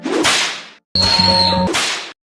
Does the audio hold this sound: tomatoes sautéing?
no